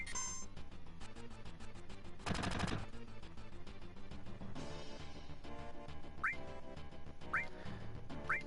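Barret fires his gun-arm rifle during a battle in Final Fantasy VII, a dense rattle of rapid shots over game music, with a loud burst partway through and a few rising chirps later.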